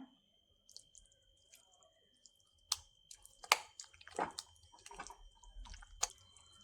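Chicken is worked by hand into a paste of ground cashews, egg and masala, giving soft wet squelches and sticky slaps that grow busier toward the end, close and fairly quiet.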